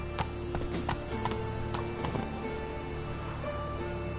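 Roach, a horse in a PS4 video game, gallops with a rapid, continuous clip-clop of hooves, close and steady throughout with no voices.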